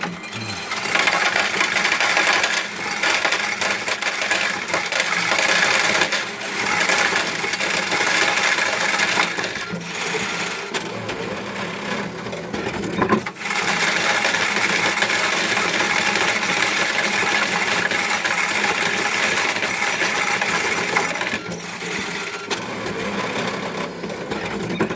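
A Glory WS21 coin sorting and wrapping machine runs continuously with coins inside, giving a loud, dense metallic clatter and whirring rattle that stays steady throughout, with only brief dips.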